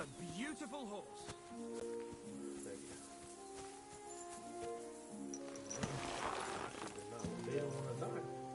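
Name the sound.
horse neighing and hooves clip-clopping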